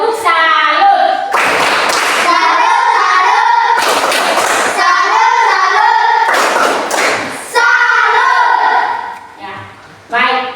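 Children in a classroom clapping the tepuk salut routine, with bursts of rhythmic group claps and thumps mixed with children's chanting voices.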